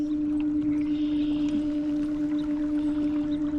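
Newport NK180PRO electric trolling motor on an Old Town 106PDL kayak running at 64% speed, a steady loud electric whine with water wash beneath, continuous and close.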